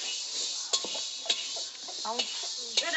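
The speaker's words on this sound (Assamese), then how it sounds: "এয়া এতিয়া চিৰা ভাজি আছে" Malbhog rice chira (flattened rice) frying in a pan, giving a steady close sizzling hiss with occasional light scrapes and clinks of stirring, while a voice speaks faintly in the background.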